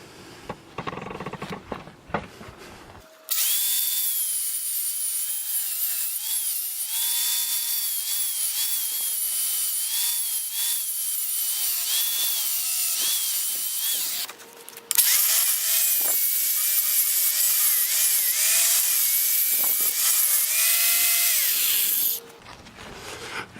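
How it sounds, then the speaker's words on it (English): Angle grinder working down the freshly cut end of a steel tube on a Jeep JK during a one-ton axle swap, a loud steady whine running for long stretches with a brief pause midway. "I'll just grind that down a little bit"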